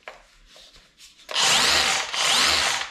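Bosch GBH 18V-21 cordless rotary hammer drills into brick in hammer mode, two loud rattling bursts of hammering after quiet handling noises, with no talk.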